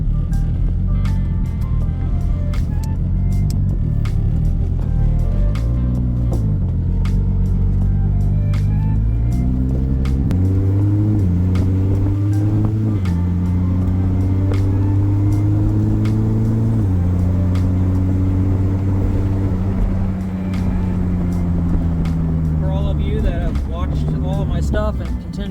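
2JZ-swapped Nissan S14 with an 8HP70 automatic driving under throttle: loud engine drone rising in pitch through each gear, then dropping at the shifts, steady and close throughout.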